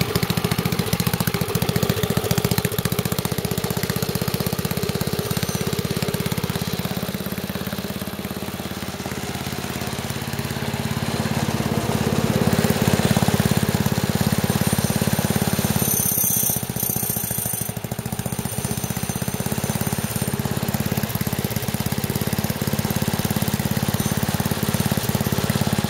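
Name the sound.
wood chipper engine running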